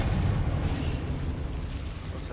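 In Hogwarts Legacy, a Confringo spell explodes with a loud, rumbling burst that fades over a couple of seconds into a dense, noisy roar with no talking.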